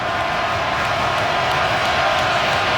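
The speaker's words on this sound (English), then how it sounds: "Crowd with some desperation up now, cheering on the Steelers" Steady roar of a football stadium crowd cheering on the Steelers against the Ravens, a dense, continuous wash of voices that holds loud and even from start to finish.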